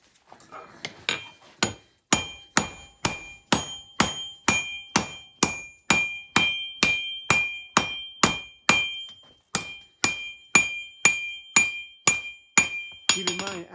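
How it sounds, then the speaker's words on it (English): Cross peen of a hammer striking a knife blank on the anvil while forging the bevel, steady ringing blows at about two per second, close and loud, continuing without pause. "using the cross peen to establish the basic bevel, to establish the basic start of the handle"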